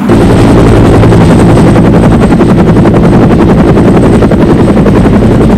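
A Bell UH-1 Iroquois utility helicopter thunders close by, its rotor producing a loud, steady, rapid blade chop that fills the whole stretch without pause.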